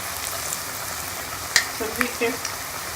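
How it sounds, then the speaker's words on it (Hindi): Vegetable pakoras deep-fry in a kadai of oil with a steady bubbling sizzle, punctuated by a few sharp clinks and scrapes of stirring. "जब सारे पकौड़ों को डालें जितने कढ़ाई में आते हैं कोशिश करें कि छोटे छोटे बनाएं"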